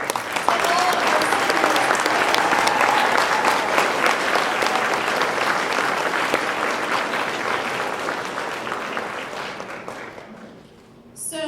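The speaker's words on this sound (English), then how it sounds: "Can we give another round of applause to all of our" Sustained audience applause and scattered cheers fill the hall at a high school guitar concert, clapping steady for several seconds before fading, then picking up again briefly.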